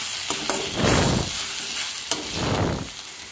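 Drumstick seeds sautéing in a pan, a steady close sizzle with two swelling scraping bursts as a spoon stirs them, plus a few light clinks, no voices.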